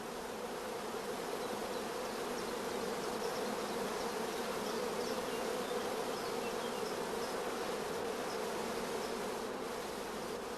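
A dense crowd of honey bees clustered on queen-rearing cells in a hive gives off a steady, even buzzing hum that stays close and constant throughout, with no voices.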